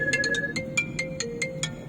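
A phone ringtone plays a bright, repeating electronic melody of short beeping notes in a steady pattern, moderately loud with faint background hum and no talking.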